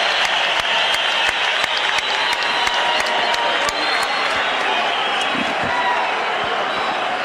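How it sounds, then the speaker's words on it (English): A large boxing-arena crowd at the Erik Morales vs Marco Antonio Barrera fight in 2000 roars and claps loudly and steadily as the Mexican national anthem ends, a dense, continuous wash of cheering with sharp claps throughout. "listen to this crowd as they finish the Mexican national anthem."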